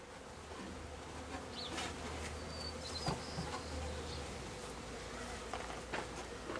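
Package honeybees just installed in a new hive box, a steady close buzz of many bees filling the air with a few brief louder passes.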